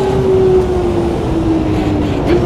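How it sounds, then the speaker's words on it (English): A steady, droning engine tone of a BMW M1 Procar race car at 1977 Hockenheim in the game Automobilista 2 holds at a constant pitch with a continuous rumble underneath, cruising at speed. "Car sounds beautiful."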